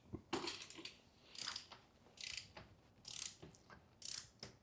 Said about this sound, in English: Just put it right there and I'll tighten this axle up.